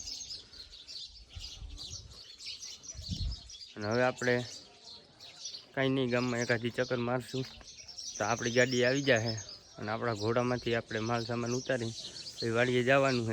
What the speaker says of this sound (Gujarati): ચકલાનો મસ્ત મજાનો અવાજ આવે છે